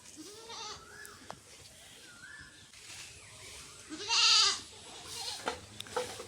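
A goat bought for Qurbani bleats several times, wavering cries at moderate distance with one louder, harsher call in the middle, over faint outdoor background and light wind.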